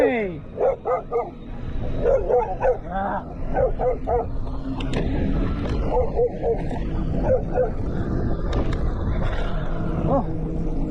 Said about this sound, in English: Oh, got a dog.